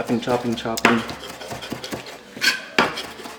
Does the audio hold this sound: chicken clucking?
no